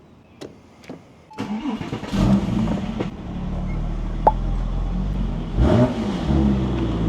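Porsche 996 911 Turbo with a suspected failing fuel pump, started then revved hard under full throttle, a loud close engine rising and surging after a few sharp clicks.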